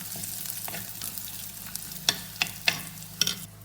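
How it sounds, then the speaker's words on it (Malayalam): Shallots and curry leaves sauté in a pan with a steady close sizzle, broken by several sharp scraping stirs toward the end; no voices. "ചെറിയുള്ളി ബ്രൗൺ നിറായി വരുന്നുണ്ട് ഇതിലോട്ട് കറിവേപ്പില ചേർത്ത് ഒന്നുകൂടെ വഴറ്റിയെടുക്കാം"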